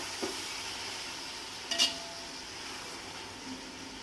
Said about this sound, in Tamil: ஸோ தக்காளி நல்லா வதங்கட்டும்